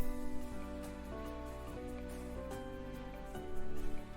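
A G tetrachord played on keyboard, notes stepping upward one after another, with sustained tones overlapping and a firmer note near the end.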